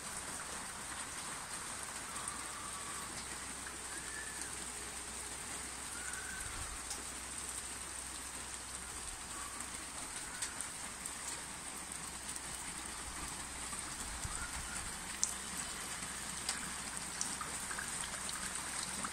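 Steady rain falls on outdoor surfaces in mid-August, a continuous dense patter with occasional closer drips and trickles of runoff, with no voices.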